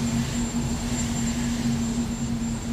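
Marine One presidential helicopter idling on the White House South Lawn, a steady loud turbine whine and rotor drone with a constant high tone, heard alone and continuous throughout.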